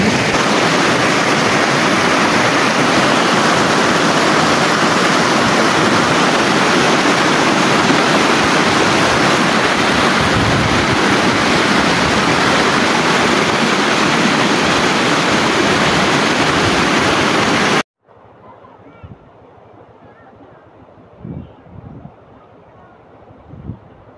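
River water rushes loudly at a mini cold spring beside a mountain in Puting Bato, Agusan del Norte, a dense roar heard up close for about eighteen seconds, then cutting to a much quieter scene with faint knocks.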